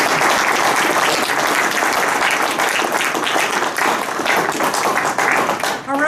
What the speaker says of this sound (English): please help me give him another round of applause